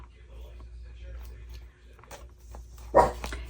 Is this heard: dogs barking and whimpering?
yes